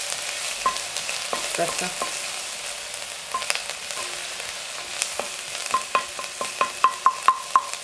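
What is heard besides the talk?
thyme frying and sizzling in a pan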